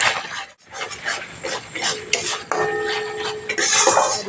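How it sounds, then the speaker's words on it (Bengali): Spice paste with Kashmiri chilli powder being stirred in a pan for a vegetarian potol (pointed gourd) dish, a close, steady run of scraping and clinking utensil sounds with no talking. "এর মধ্যে একটুখানি কাশ্মীর লঙ্কার গুঁড়ো কাশ্মীর লঙ্কার গুঁড়োটা অপশনাল তোমাদের দিতে ইচ্ছা হলে দিও না ইচ্ছা হলে নাও দিতে পারো খুব ভালো করে মিশিয়ে নিচ্ছি"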